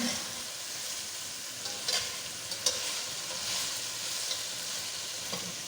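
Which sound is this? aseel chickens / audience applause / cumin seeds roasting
cumin seeds roasting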